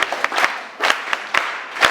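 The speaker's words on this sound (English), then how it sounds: "I want you to clap for the invigilators." An audience applauds invigilators at a high school candidate briefing, a dense patter of many hands clapping with a few louder individual claps standing out, fairly close and steady.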